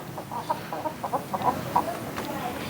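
Chickens cluck in a series of short, uneven calls close by in a garden beside a house, with faint outdoor background noise and no talking.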